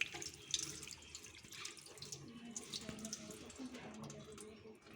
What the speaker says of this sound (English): First, wet the hands with water.